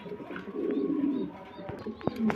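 Soft, low cooing from a pair of Mundian pigeons repeats close by, with a few faint clicks and small rustling sounds in a quiet setting.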